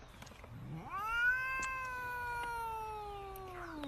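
A single long meow from a cat, rising sharply then slowly trailing off, heard alone and fairly quiet.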